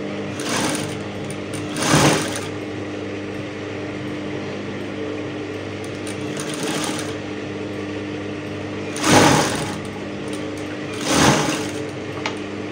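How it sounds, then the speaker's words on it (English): A sewing machine joins bra cup pieces with a 1/2 inch seam, running as a steady close whir with a few louder bursts of stitching spread through the stretch. "I'll take this to the sewing machine now and then sew them together with 1/2 inch."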